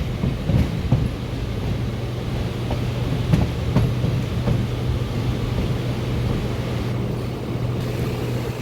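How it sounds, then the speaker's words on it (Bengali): A local train on the Kharagpur–Belda line pulls into Hijli station at night, with a steady low rumble, continuous mechanical rolling noise and occasional faint clanks, heard from on board. "ফাইনালি ট্রেন হিজলি স্টেশনে ঢুকলো"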